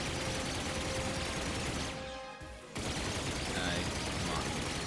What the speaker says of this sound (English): You can go ahead and just use the turret to mop up enemies.